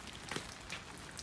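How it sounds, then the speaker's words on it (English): Rain falls steadily, a soft, diffuse patter of drops on surfaces with scattered brighter ticks, fairly quiet and unbroken, with no voices over it. "It's Friday and it's raining."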